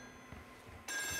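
A telephone in the video game Still Wakes The Deep starts ringing abruptly after a near-silent moment, its bright, steady electronic ring loud and close.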